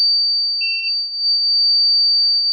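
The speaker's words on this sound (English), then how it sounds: "you can now hear a sound wave being reproduced by the loudspeaker unit here" A signal generator drives a simple loudspeaker with a 5 kHz sine wave, producing a loud, piercing, perfectly steady high whistle that holds throughout. A short, fainter lower beep briefly overlaps it early on.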